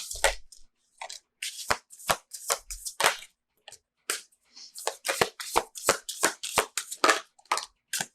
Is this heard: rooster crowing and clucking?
no